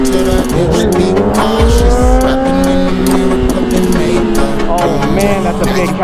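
A Kawasaki Concours motorcycle does a burnout, with tire squeal sliding up and down in pitch over engine revving, loud and close, and a brief exclamation from a voice.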